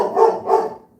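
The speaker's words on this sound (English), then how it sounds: "they love barking at the neighbors" Pet dogs barking at the neighbors give two quick, close barks in succession, followed by a fading tail, with no talking.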